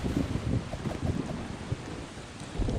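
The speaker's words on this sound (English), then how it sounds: "It seems like we got a thunderstorm." A thunderstorm in the Bee Swarm Simulator video game: steady rain noise with low rumbling thunder and gusty wind throughout, fairly loud and with no talking.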